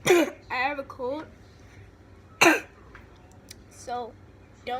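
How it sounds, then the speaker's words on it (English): A person with a cold coughs and clears the throat in a few short, harsh bursts spaced apart, close by, with some talking between them. "don't be mad at me for coughing"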